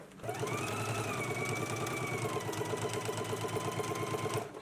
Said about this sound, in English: So let's go ahead and stitch now, again from that shoulder seam all the way down to the lower end.